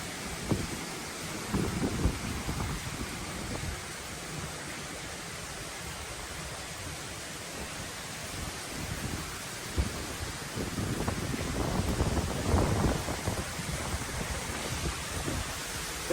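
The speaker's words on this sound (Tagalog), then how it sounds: "Grabe, super lakas na guys ang ulan dito. Ng hangin, grabe." Hurricane Milton in Florida near Tampa roars with strong wind and heavy rain, a continuous loud rushing wash with gusts that swell toward the end.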